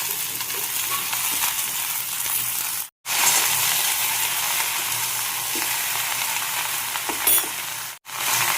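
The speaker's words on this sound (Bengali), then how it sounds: "আর সবজিগুলো একটু ভেজে নেবো।" Potato, eggplant and radish pieces fry in hot oil in a pan, a loud, steady, bright sizzle with faint stirring, cut twice by brief near-silent pauses.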